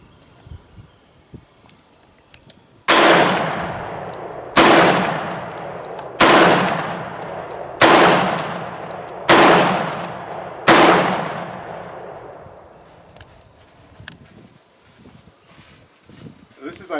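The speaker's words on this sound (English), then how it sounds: "here's 6 shots double action." Korth Combat Mongoose revolver fired double action: six loud, sharp shots spaced roughly 1.5 seconds apart, each with a ringing decay, in a quiet outdoor setting with faint handling sounds before and after.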